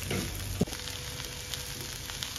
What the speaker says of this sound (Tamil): இப்ப தக்காளியும் போட்டுக்கலாம், கொஞ்சம் நல்லா வதக்கி விட்டுக்கலாம்.